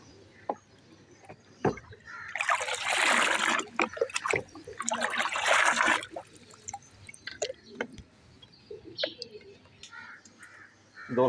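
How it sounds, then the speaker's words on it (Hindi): Water mixed with two syrup supplements is poured into a container for baby pigeons, heard as two long splashing pours, then scattered clinks and small knocks close by. "अब ये मिक्स पानी इसके अंदर डालेंगे और इसको अच्छी तरह हमने मिक्स कर देना।"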